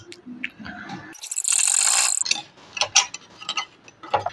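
A sewing machine stitches over pleated plates on a sleeve, making a brief run of about a second amid scattered clicks and handling noises.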